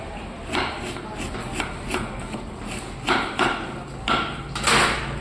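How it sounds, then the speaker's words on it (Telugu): A knife chops carrot finely for ravva dosa on a cutting board, giving a steady run of close, crisp taps. A few louder strokes come toward the end, with no voice over them. "క్యారెట్ అనేది ఇలా నైస్గా కట్ చేసుకోవాలి."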